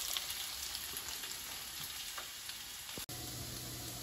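Potatoes pan-frying in a skillet, a continuous soft crackling sizzle heard close but quietly, interrupted once by a brief knock or stir near the end, with no talking.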